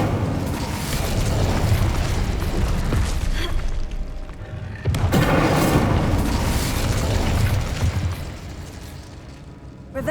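An Incendio fire spell cast in Hogwarts Legacy, a roaring whoosh of flame with a booming burst, swelling loud twice in succession over a dense game background.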